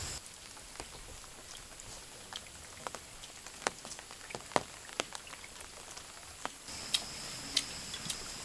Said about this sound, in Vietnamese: Hôm nay trời mưa